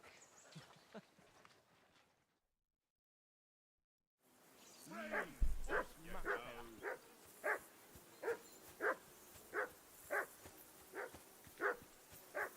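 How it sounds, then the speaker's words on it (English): A dog in the video game Kingdom Come: Deliverance 2 barks steadily and repeatedly at close range, one bark roughly every second, after a short stretch of quiet. "Jesus, Henry, that barking's driving me nuts. Can you get your dog to shut its beak?"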